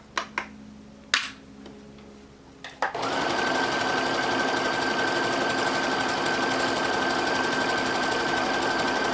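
Sewing machine top stitching fold over elastic on lingerie, starting after a few clicks and handling noises, then running as a loud, steady, fast mechanical hum that continues unbroken to the end.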